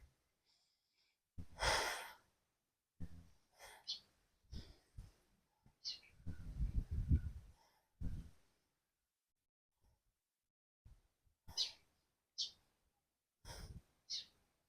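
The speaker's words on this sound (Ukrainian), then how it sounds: "Півкола вдих, півкола видих." Rhythmic breathing during a lymphatic-drainage exercise routine with slow hip circles: audible inhales and exhales come in short bursts, some heavy and close, separated by quiet pauses.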